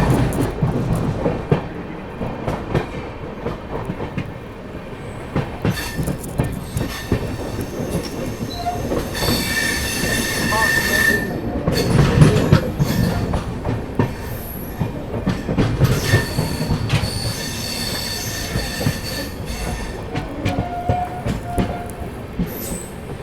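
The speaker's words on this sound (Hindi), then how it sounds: "ट्रेन अपनी जो है मुजफ्फरनगर पहुंच रही है" The Dehradun Shatabdi Express rumbles and clatters along the tracks, with wheels squealing and rhythmic clicking as it rolls steadily into Muzaffarnagar station.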